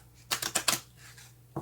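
Tarot cards shuffled by hand in a quiet room: four quick papery riffling bursts close together, near and fairly soft, followed by a faint rustle and a short tap.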